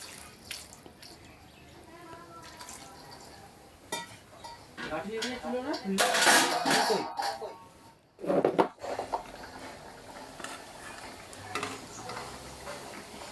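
Water pours and splashes into a pot of katla fish curry with potato and eggplant, a rushing gush building in the middle with clattering of the vessel, surrounded by quieter kitchen ticks and drips.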